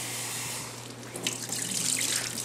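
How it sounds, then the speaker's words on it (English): Tap water runs steadily into a bowl of soaked cashews being rinsed, a continuous close splashing stream that grows a little busier partway through, with no talking. "you're gonna take the water out and rinse it out. You want to rinse it a couple times."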